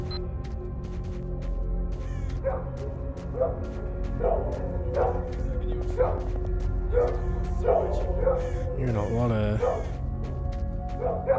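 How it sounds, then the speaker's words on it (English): Dogs bark in repeated short bursts at mid distance in S.T.A.L.K.E.R.: Shadow of Chernobyl, set among village houses, over a steady ambient drone, with someone talking briefly and game voices nearby. "a lot of dog action."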